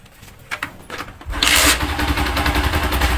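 A TMX Alpha 125 motorcycle engine, freshly tuned up, cranks with a few brief clicks and then catches, settling into a steady, loud idle close by with no talking.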